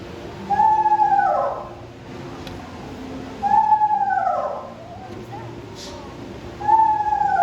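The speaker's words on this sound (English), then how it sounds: "Instead, it's kind of this small hoarse whinnying call." Eastern screech owl giving hoarse, descending whinnying calls, three separate trills spaced a few seconds apart, clear and fairly close against a quiet background.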